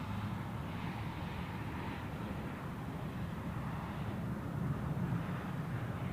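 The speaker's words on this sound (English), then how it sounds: "And also not too far away anymore is Icelandair with a Boeing 757." An Icelandair Boeing 757 airliner sounds as a distant, steady jet rumble at Zurich Airport, a broad, even roar that swells slightly toward the end, with no voices.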